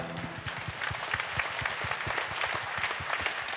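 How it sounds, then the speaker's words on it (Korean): A church congregation applauds together in praise at a prayer meeting, a full steady round of clapping with a fairly even pulse and no talking over it. "주님께 영광의 박수를 올려드리겠습니다."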